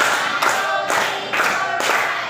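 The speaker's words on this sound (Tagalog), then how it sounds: "Bigyan ninyo ang inyong mga sarili niyang limang palakpak." Classroom students give five claps in an even, steady rhythm, a crisp group clap that is close and fairly loud, with no talking.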